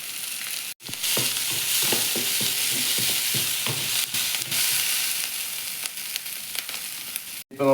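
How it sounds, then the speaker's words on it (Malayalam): Green chilies frying with onion in a pan, a steady bright sizzle heard up close with a run of quick spatula scrapes and taps early on and a brief cut near the start and end. "ഇനി പച്ചമുളക് നമുക്ക് ഇട്ട് കൊടുക്കാം."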